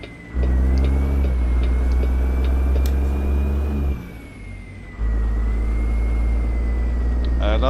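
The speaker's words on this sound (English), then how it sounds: "I love that turbo sound." Stretched Peterbilt 379 truck engine pulling hard with a steady turbo whistle riding over the deep engine drone, dipping briefly as the truck shifts, then resuming loud and close.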